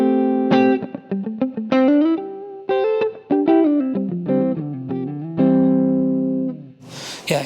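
Electric guitar played through a NUX stompbox modeling a Marshall 1960 4x12 cabinet, a run of distinct picked notes and chords with sustain, ending in a brief noisy burst.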